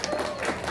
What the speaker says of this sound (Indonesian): Tepuk tangan buat anak-anak Min 2 Purbalingga.